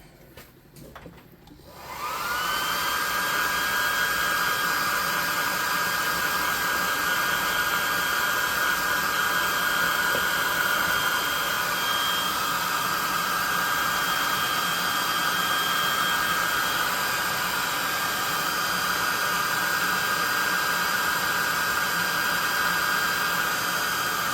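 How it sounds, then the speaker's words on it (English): A hair dryer starts after about two seconds of quiet and then blows a loud, steady, unbroken whoosh with a constant whine while drying a custom tabletop creature model. "We're going to dry that off."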